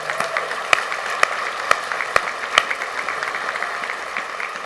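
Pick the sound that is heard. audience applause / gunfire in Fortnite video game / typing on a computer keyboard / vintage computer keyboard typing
audience applause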